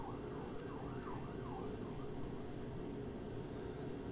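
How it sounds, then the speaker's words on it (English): Distant police sirens wailing in a repeating up-and-down pattern over a steady background hum of town traffic, no talking. "sorry, we're dealing with police sirens here."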